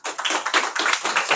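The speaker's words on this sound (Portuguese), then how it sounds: "Salva de palmas para o Douglas." Applause for Douglas Braz from an audience at a talk on professional image, a dense patter of hand claps that rises in waves and carries on steadily and fairly loud for the whole short stretch.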